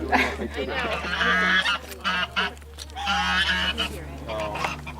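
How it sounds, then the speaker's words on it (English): Loud, harsh honking calls from a duck close by, coming in irregular bursts of several squawks with short pauses between. "Duck wants us to go away"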